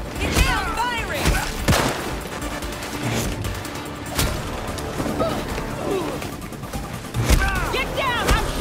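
Gunfire in the video game Gotham Knights comes as repeated sharp bursts and volleys, loud and close, spread unevenly through the scene, while voices shout and chirp in between.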